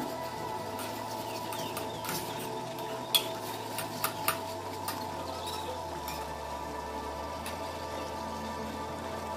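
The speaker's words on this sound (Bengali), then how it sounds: "মাংসের কিমাগুলোকে ভালো করে কষাতে হবে বন্ধুরা।" Minced meat sautés in a pan with a steady low sizzle throughout, broken by a few light clinks and scrapes of a stirring utensil against the metal; no one speaks.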